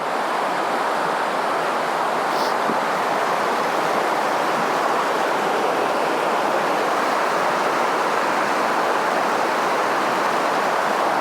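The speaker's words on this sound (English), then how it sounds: "So this is the river." A small river flows steadily nearby during a dog walk, giving a continuous broadband rush of water that holds even from start to finish with no talking.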